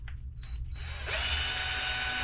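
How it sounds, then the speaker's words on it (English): After a quiet second of faint clicks, a power drill spins up and runs steadily, whirring as it backs screws out of drag-car motor parts. "Take our 2 screws out."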